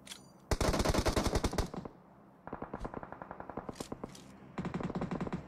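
Automatic gunfire from a PUBG Mobile match comes in three long bursts of rapid, evenly spaced shots, loud and close, with short gaps between the volleys and no voices over them.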